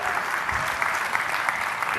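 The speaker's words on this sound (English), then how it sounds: "Let's have a big round of applause for her." An audience at a leadership speech bursts into steady, dense applause, many hands clapping together at a moderate distance without pause.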